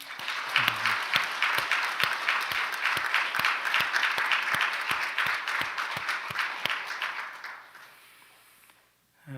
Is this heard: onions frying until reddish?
no